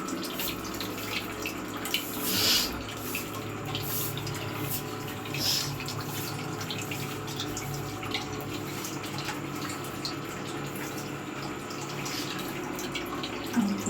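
A household tap runs steadily into a container as it fills. The close, continuous rushing flow carries a faint dripping texture and goes on without pause, with no voices.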